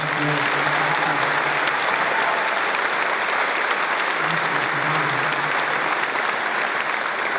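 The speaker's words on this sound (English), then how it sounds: "we want to be give a little special applause for somebody that's been so good" Troops applaud at Al Udeid Air Base in Qatar, a sustained, even roar of many hands clapping from a large crowd, with faint voices mixed in beneath the steady clatter.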